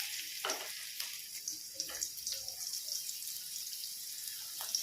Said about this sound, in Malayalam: വെളിച്ചെണ്ണ ഒഴിച്ചു കൊടുത്ത് കുറച്ച് ചൂടാകുന്ന സമയത്ത് നമ്മൾ കുറച്ച് ഇഞ്ചി ചേർത്ത് കൊടുക്കുക